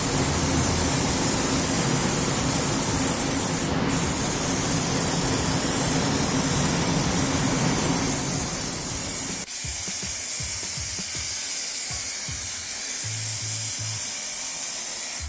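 A spray gun applying Caspian Blue paint to a 1965 Ford Mustang, a loud continuous hiss that runs steadily, then drops in level and gives way to quieter intermittent bursts of spray near the end.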